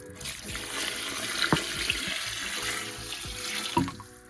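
Water pouring into a pot of red beans with smoked turkey meat, a steady close splashing stream with a few clinks of the pot, no voices.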